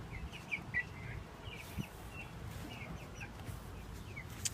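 Backyard chickens in an urban homestead cluck softly while exploring their new coop, several short scattered calls over a faint steady background hum, fairly quiet and without voices.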